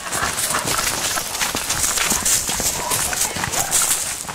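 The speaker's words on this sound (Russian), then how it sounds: "Лошадь никак не хочет с Рексом знакомиться." A horse moves along a path on an outdoor walk in Eppenberg, its hooves clip-clopping in quick, uneven beats, loud and close throughout.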